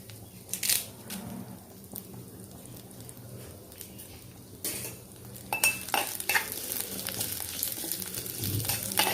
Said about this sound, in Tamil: இப்போது இதில் கொஞ்சம் எண்ணெய் விட்டுக்கோங்க கருவேப்பிலை வறுக்கிறதுக்கு.